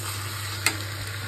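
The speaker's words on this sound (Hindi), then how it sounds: "अभी मुझे इसको अच्छी तरह से मिक्स करके फ्राई करूँगी" Mutton mixed with yogurt sizzles steadily in a hot pan, with a single sharp scrape of a spoon stirring through the middle, close and even with no talking.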